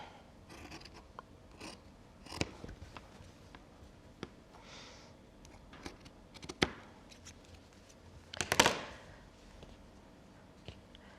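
Scissors snip through quilt wadding in a few short, crisp cuts spread across a quiet stretch, with one louder, longer snipping burst near the end and no talking.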